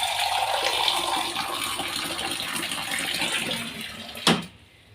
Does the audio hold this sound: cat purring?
no